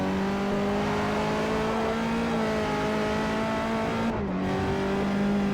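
Toyota MR2 engine in a Forza racing game on Xbox 360, a steady high droning whine held at near-constant revs, then a brief dip as the pitch drops at a gearshift before resuming.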